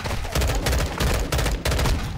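First-person shooter gunfire crackles in rapid bursts of automatic shots, loud and close, with brief gaps between a few volleys.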